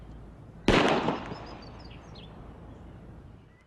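A single loud .40 caliber gunshot cracks sharply outdoors, followed by a long fading echo, with faint birdsong in the background.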